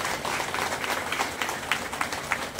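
An audience at a felicitation gathering for a drivers' association claps together, a dense, fairly soft patter of many hands that holds steady throughout.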